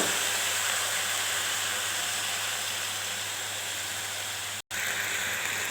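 Leafy lau greens land in a hot pan of fried potatoes and aubergine and hiss in a loud, steady, unbroken wash of sizzle that cuts off sharply for a moment near the end.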